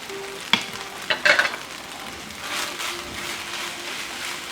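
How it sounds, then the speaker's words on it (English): Sweet peppers going into a simmering pan for jalapeno poppers with ground turkey, a soft steady sizzle with a few sharp utensil clinks and stirring scrapes early on, fairly quiet and close. "So now let's add the sweet peppers."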